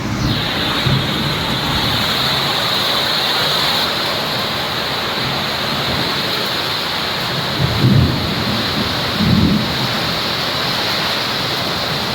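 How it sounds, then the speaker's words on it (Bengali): Heavy thunderstorm downpour roars steadily and loudly throughout, with two low, rumbling thunder swells rising near the end; no voices are heard. "দেখো কি বৃষ্টি, আর ডাক মেরে যাচ্ছে গুপ গাপ করে।"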